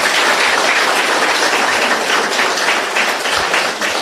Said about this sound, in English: let us give a big round of applause for Pariyaka